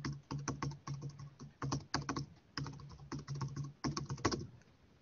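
Password being typed on a computer keyboard, with close, crisp key clicks arriving in quick bursts and short pauses across several seconds, alone with no speech.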